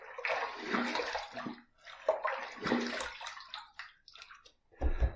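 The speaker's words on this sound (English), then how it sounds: "let's rinse." A boar hair shaving brush is rinsed under running tap water, making splashing, gurgling bursts. The bursts rise and fall in uneven waves with short pauses between them, ending in a louder splash.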